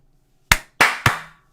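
Two people try to clap in unison but land as three sharp, separate claps within about half a second, close and loud, each with a short ringing tail.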